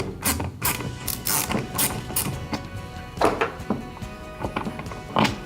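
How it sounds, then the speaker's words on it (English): A bolt is backed out with a tool on a Hobie Mirage pedal drive for the Passport 10.5 kayak, giving a close run of short ratcheting clicks and mechanical knocks in an uneven rhythm. "The bolt here is gently installed in there, so I'm going to back it out just a little bit."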